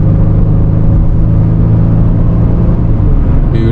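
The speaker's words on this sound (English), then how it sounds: "Here's the exhaust." Exhaust of a 2025 Honda Pilot TrailSport idling close by, a loud steady low rumble with a smooth even drone and no talking.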